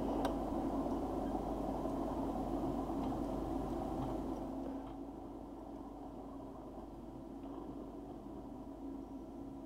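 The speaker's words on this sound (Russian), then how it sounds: "Подождите, тут какой-то поезд едет." Train rolling past in the war strategy game Behind Enemy Lines 2 (В тылу врага 2), a steady rumbling drone that drops slightly in loudness midway and continues as a low, even background noise.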